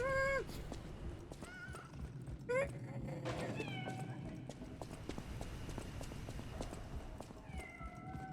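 A kitten meows in the video game Lies of P, several short rising calls scattered over a steady bed of game music and ambience, with clip-clopping hooves and a horse's whinny also mixed in.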